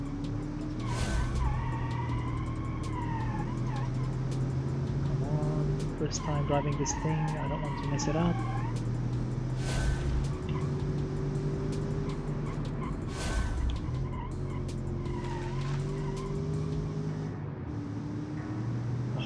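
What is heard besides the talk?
V8 engine of a 1990 all-wheel-drive super sedan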